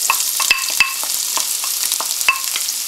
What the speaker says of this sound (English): you know when the oil's ready for the rest of the ingredients, because it'll just start sizzling like that